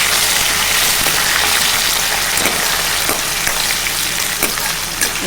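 Onions and green chillies fry in a pan with a steady, hissing sizzle and a few faint stirring clicks, and no voices.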